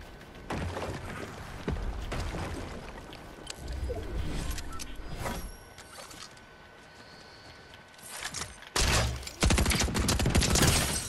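Bursts of rapid gunfire rattle through a video game match, loud and dense in several clusters with brief gaps between volleys.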